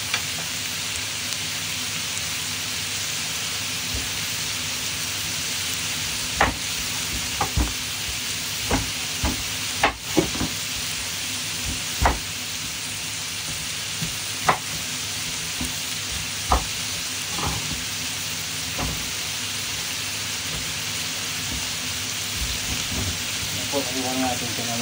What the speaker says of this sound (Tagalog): Gisahin natin ng gisa-gisa.